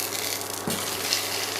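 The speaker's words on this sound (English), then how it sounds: "you need to listen this noise of frying process. Strong frying." Potatoes fry hard in smoking-hot sunflower oil in a pan, giving a dense, steady close-up sizzle with a faint stir or clink partway through.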